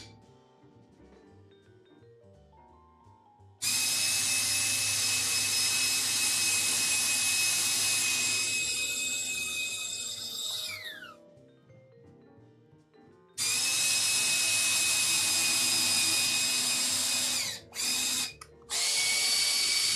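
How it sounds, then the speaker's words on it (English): A power drill driving screws whirs loudly in two long bursts, spinning down between them, followed by a couple of short quick pulses. "Grab the handy dandy drill."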